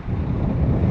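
Heavy wind buffeting a microphone, a loud low rumble that roars and flutters without a break.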